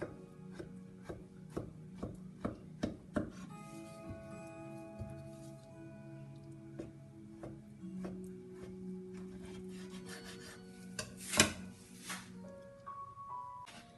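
Eggplants being cut into quarters with a knife, a run of sharp, evenly spaced knife strikes on a board over the first few seconds, then scattered softer cuts and handling among quiet kitchen tones.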